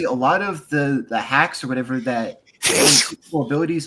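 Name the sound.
sneeze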